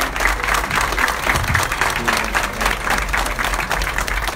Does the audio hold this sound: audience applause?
yes